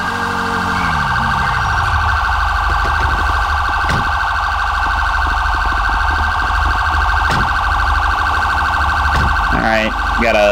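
A police car siren in a video game wails continuously and loud for about ten seconds, a steady high tone with a low engine rumble beneath and a few short clicks and blips near the end.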